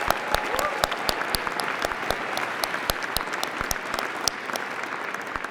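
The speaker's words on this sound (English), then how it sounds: "can you join me in giving one more round of applause" An audience claps steadily and fairly loudly in a large hall honoring caregivers, a dense continuous applause with sharp individual claps standing out throughout.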